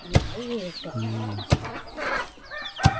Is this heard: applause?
no